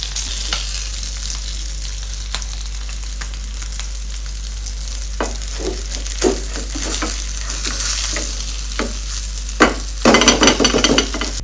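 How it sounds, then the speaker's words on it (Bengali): Pieces of Silond catfish, coated in salt and turmeric, crackle and sizzle steadily in oil, punctuated by scrapes and taps of a utensil moving them in the pan, louder near the end. "সেই চারটে টুকরো লবণ এবং হলুদ গুঁড়ো দিয়ে ভালো করে ভেজে নেওয়া হলো"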